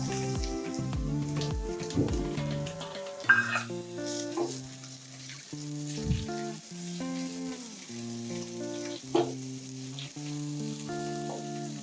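Spring onions being stir-fried in a pan for restaurant-style veg fried rice, crackling sizzle and occasional stirring clatter heard under prominent background music, with no talking.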